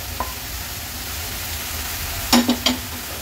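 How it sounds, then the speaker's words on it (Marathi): Chopped amaranth greens hit a hot pan for a Konkan-style veg thali, bringing a steady hiss of sizzling with a few quick clinks and stirring scrapes near the end. "आता ही माठाची भाजी जी स्वच्छ धुवून बारीक चिरून घेतली आहे ती ऍड करते"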